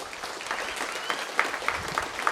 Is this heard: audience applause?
yes